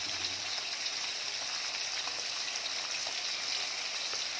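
Soft-fleshed fish and garlic frying in a pan give off a steady, quiet sizzle and crackle, a continuous hiss with small pops scattered throughout and no talk.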